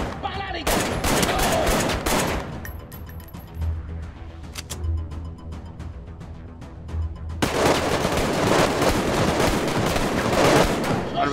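Heavy enemy gunfire bursts in the Arktika.1 VR shooter, loud rapid volleys at the start, a quieter stretch with scattered shots, then another sustained barrage near the end.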